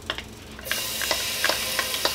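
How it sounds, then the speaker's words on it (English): Sudden loud hiss of frying as garlic hits hot oil, a steady sizzle with crackles and stirring scrapes, close up, no voices. "I hear that sizzle."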